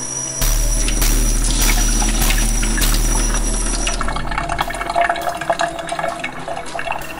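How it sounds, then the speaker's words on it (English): Water pours steadily into a pot of rice in a continuous splashing stream, then stops, leaving a few small clinks and drips. "we are going to measure out 1 cup of water and put it into the rice."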